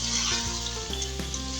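Continuous sizzling and crackling of onions and masala frying in a hot pan for beef nihari, with a low steady hum underneath.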